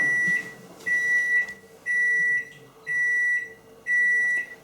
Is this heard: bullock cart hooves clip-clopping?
no